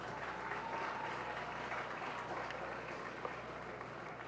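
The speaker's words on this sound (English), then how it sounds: "Round of applause, please." Crowd gathered for a World Environment Day green walk claps in a sustained, moderately distant round of applause, even and continuous with a faint low hum beneath.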